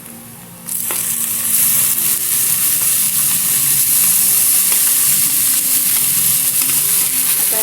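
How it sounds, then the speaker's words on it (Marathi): Tomatoes and onion fry in a pan, breaking into a loud, steady sizzle after a quieter opening second, with faint clinks of stirring scattered through. "टमाटा दोघाला फ्राय करायचं"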